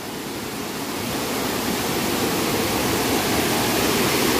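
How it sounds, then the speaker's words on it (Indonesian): Continuous rushing roar of a small river with a waterfall near a remote Sundanese village, steady broadband water noise that swells slightly louder after the first second and carries on alone. "Ada suara gemuruh air, soalnya ini sungai kecil."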